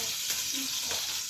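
Mustard seeds and cumin sizzling in hot oil, a brief, loud and dense crackle close by with slight stirring sounds.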